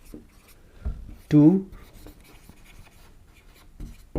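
Short scratchy strokes of writing on a board, soft and intermittent, in a classroom lesson, heard beneath a teacher's speech.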